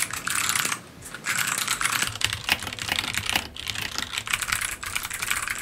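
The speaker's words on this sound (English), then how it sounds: "So many different keyboards can sound different to each other." Rapid, continuous clacking of keys on a mechanical keyboard, close and fairly loud, with a brief pause near the start before the busy typing rhythm resumes.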